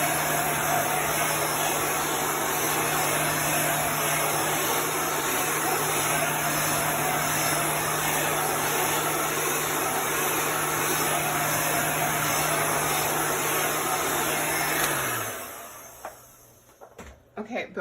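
A hair dryer blows in a steady, loud, close whoosh while drying chalk paste on a quilted blocks sign, then shuts off and winds down near the end.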